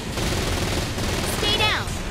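Gunfire from the video game Saints Row: Gat Out of Hell rattles in a dense, continuous burst, loud and close, with game effects sweeping through near the end.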